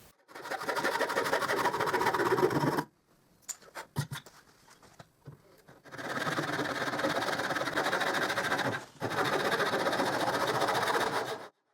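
A saw cuts small wooden parts for a star on a work table, a steady buzzing drone in long runs broken by short quiet pauses and a few faint clicks.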